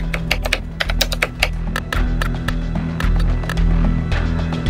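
Someone pounds on computer keyboards in a scene from the film Blackhat: rapid, irregular bursts of sharp keystrokes clatter close up over a low, steady hum, with no voices.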